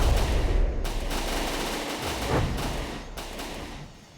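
Ship gunfire in the naval combat video game From The Depths, a continuous loud barrage of rapid overlapping shots and booming blasts that rolls on steadily before tapering off.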